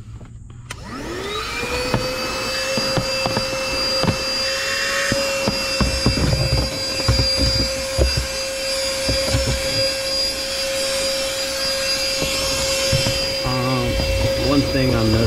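A corded handheld Chemical Guys DetailVac vacuum cleaner spins up and runs with a steady high motor whine and airy roar, close and loud, with brief pitch changes near the end.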